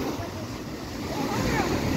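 Strong ocean waves break at San Juan Beach in La Union, a steady broadband wash of surf mixed with wind buffeting the microphone, building slightly louder toward the end.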